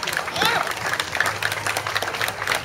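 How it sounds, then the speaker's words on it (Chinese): An audience applauds at a campaign event for an indigenous mountain-area candidate, with a spatter of clapping running under a prominent speaking voice. "掌声！"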